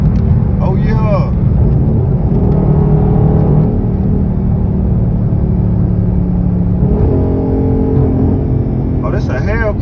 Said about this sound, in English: Oh, that's a hellcat.